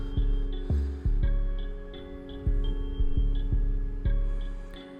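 During a bald fade haircut, an electric hair clipper with its lever open runs with a loud, close, steady buzzing hum, and regular soft thumps come from the strokes through the hair.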